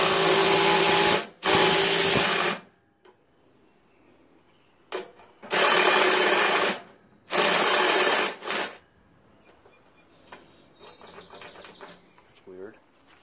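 A Jacobsen Imperial 26 dual-stage snow blower with a 6HP Tecumseh engine that needs carburetor cleaning, heard in loud bursts of running noise broken by gaps of quiet, with a person talking near the end.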